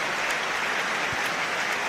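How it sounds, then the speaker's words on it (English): Hearts supporters applaud in a football stadium during the match against St Johnstone, a steady distant roar of clapping with no break. "applause from the Hearts supporters for a 14-year-old lad"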